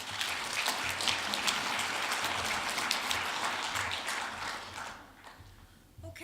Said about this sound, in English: let's give another round of applause to our really interesting storytellers